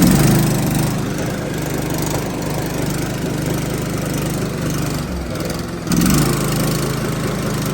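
A petrol engine, apparently a small mower-type motor, runs steadily and loud throughout, with a brief dip near the end before it picks up again.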